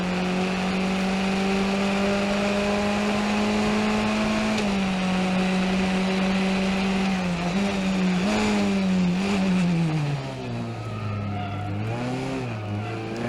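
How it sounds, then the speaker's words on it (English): Race car tires squealing during street racing in Montreal, a long continuous tonal squeal over a loud engine drone, the pitch sliding and wavering downward near the end, close and sustained. "The tires are squealing."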